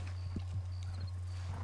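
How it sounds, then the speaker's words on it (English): A few horse hooves clip-clop at a slow, uneven walking pace, close by, over a low steady hum, in the video game Red Dead Redemption 2. "Look at this horse."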